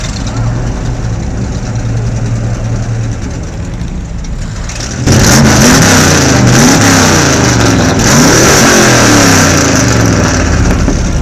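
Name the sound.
Chevrolet Corvette C3 naturally aspirated engine revving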